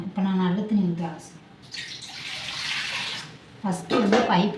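Basella spinach leaves are swished and rinsed in a vessel of clean water, making a soft splashing wash between stretches of someone talking.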